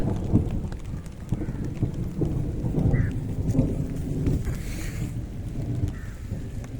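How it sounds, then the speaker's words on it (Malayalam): Heavy rain pours steadily with rolling thunder rumbling underneath, a dense close wash of water noise over a vegetable garden with pumpkin and bean plants, continuous throughout with no talk. "അപ്പം നല്ല മഴയാണ് ഇവിടെ"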